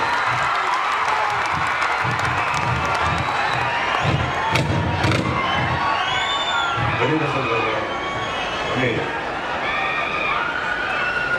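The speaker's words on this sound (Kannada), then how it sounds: "ವೇದಿಕೆ ಮೇಲೆ ಸೇರಿರುವಂತ ಎಲ್ಲ ಗಣ್ಯರಿಗೆ ನಿಮ್ಮ ಕಡೆಯಿಂದ ಒಂದು ಜೋರ ಚಪ್ಪಾಳೆ" A large crowd at a mass marriage event in Sindhanur cheers and claps steadily throughout, with scattered whoops and shouts rising above the continuous roar.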